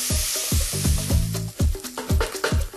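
Chopped onions sizzle steadily in hot oil in a pan while a spoon stirs them in repeated scraping strokes, loud and close, with no talk over it.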